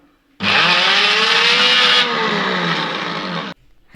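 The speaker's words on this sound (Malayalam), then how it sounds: "നന്നായിട്ട് നല്ല പേസ്റ്റ് പഞ്ഞ് പോലെ അരച്ചെടുക്കണം" Mixer grinder whirring as it grinds chicken into a paste, starting abruptly, running loud and steady for about three seconds with a slight pitch shift midway, then cutting off.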